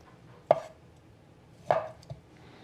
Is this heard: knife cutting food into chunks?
yes